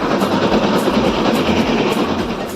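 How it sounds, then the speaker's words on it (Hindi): Small park train in a nature park getting underway, a loud steady rumble with rhythmic clatter and rolling wheel noise close by, no talk. "अब हमारी ट्रेन चल दी।"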